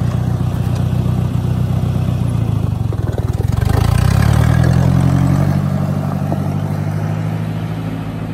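A tractor pulls away across muddy ground as its engine note rises and strengthens midway, tires flinging mud, then settles into a steady loud drone.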